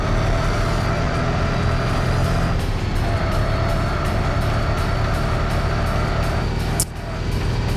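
A purple Honda NSX races in Tokyo Xtreme Racer Zero, its engine droning loud and steady through a tunnel with a faint whoosh near the end.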